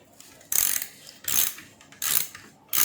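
Four bursts of metallic ratcheting as an 11 mm nut driver loosens a nut on a Hayward Mako Shark 2 swimming pool cleaner, close and clear with short pauses between turns.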